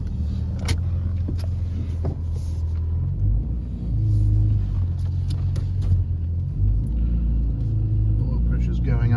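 Interior drone of a Ford FG XR6 driving slowly around the block, a steady low engine rumble with slight rises as it picks up speed, lasting throughout and fairly close, with occasional clicks and faint sounds from the cabin.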